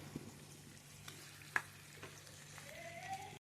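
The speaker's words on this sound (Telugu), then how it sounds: "చికెన్ బాగా వేగిందండి" Chicken pieces coated in ginger-garlic paste frying in a pan for an Andhra-style chicken curry, a soft steady sizzle with faint stirring scrapes and a brief sharp clink, close and quiet with no talk.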